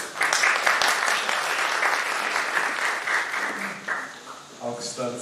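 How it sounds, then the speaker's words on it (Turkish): Audience applause at the Istanbul literature festival, a full steady round of clapping from the crowd that eases toward the end, where a voice starts speaking over the dying applause. "Alkışlarınız için teşekkür ediyoruz."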